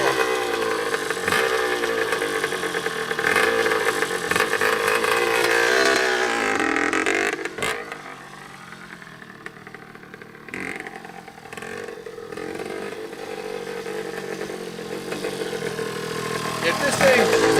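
A 1984 Honda CR80R two-stroke dirt bike engine buzzes and revs loudly for the first several seconds, then drops to a steadier, quieter running sound that builds again near the end.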